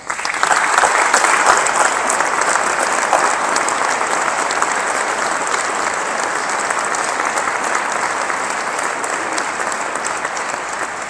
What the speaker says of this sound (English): let's thank them with your applause